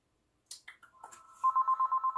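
A telephone rings with a steady pulsing electronic tone, loud and close, starting after a few soft clicks and knocks and repeating in quick even bursts.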